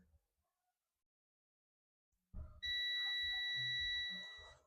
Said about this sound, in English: Multimeter is in beeping mode.